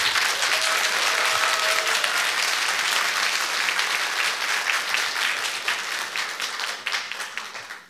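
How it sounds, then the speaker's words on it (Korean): A seated audience applauds at a 2023 addiction-recovery experience-sharing event and mental health policy forum, with steady, full clapping from many hands that gradually tapers toward the end. "그럼 박수 쳐주세요."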